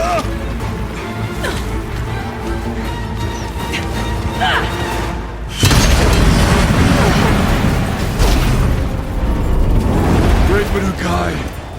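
A loud bomb explosion bursts midway through a video game battle scene, with a sudden broadband boom and a rumbling crash that sustains under a busy background of voices and mechanical noise.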